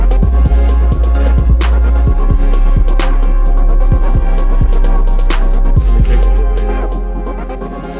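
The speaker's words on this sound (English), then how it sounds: "I put a delay on the snare as well." Trap beat built in FL Studio, with a processed snare carrying a ping-pong delay that bounces its echoes over steady sub-bass and repeating percussive hits, loud and dense for most of the loop before thinning toward the end.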